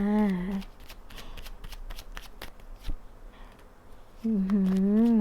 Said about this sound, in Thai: ที่แม่หมอเปิดไพ่นะ